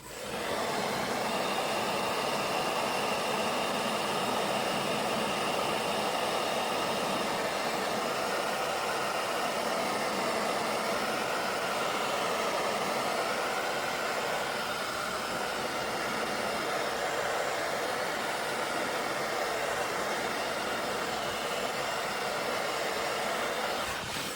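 Hair dryer drying paint on a fishing lure, a steady loud blowing whir with a constant motor hum, held close and running unbroken with slight wavering in pitch.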